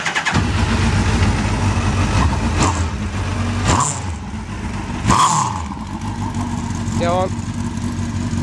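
A classic Mini car fitted with a Suzuki Hayabusa motorcycle engine fires up loudly and settles into a rough, throaty idle, with a couple of sharp revs and brief clunks, while someone speaks briefly nearby.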